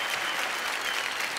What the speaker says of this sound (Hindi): हमारे देश की दो और बेटियां, जोरदार तालियां.